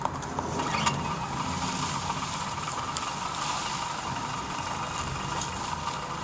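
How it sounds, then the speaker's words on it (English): A vehicle engine in a video game starts up and settles into a steady idle, a continuous mechanical rumble with ratcheting, gear-like clatter, fairly loud and without talk. "Start the engine."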